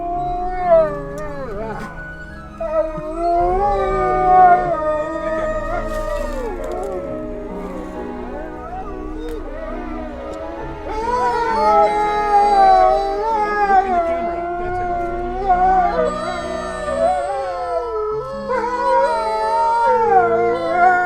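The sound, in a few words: wolves howling at a wolf conservation park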